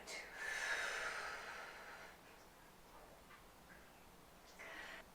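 A person breathes out audibly into their hands, a soft breathy exhale lasting about two seconds, then a quiet pause and a second, shorter breath at the end, close and intimate in a quiet room.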